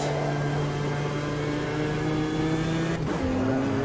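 A BMW M4 GT4 race car engine at Laguna Seca in a racing simulator, a loud steady drone that rises in pitch as it accelerates, then dips at a quick gear change and climbs again, heard up close alone.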